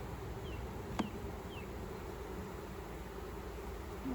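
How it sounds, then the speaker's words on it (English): Honey bees from a split colony drift back to the original hive spot, giving a faint, steady buzz against quiet outdoor hiss, with a brief sharp tick near the middle. "a lot of these field bees are gonna come back over here because this colony is kind of in the original spot"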